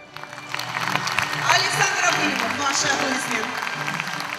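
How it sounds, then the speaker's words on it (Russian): An audience at a beauty pageant applauds steadily, a dense crowd clapping that swells and holds, with a presenter's voice speaking over it. "давайте бурные аплодисменты"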